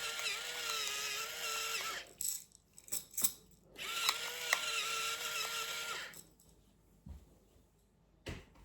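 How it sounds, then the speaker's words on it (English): A pepper grinder grinds pepper for crispy sticky chicken in two whirring, ratcheting bursts of about two seconds each, separated by a pause with a few light clicks and knocks. "and then we've got the pepper, grind the pepper"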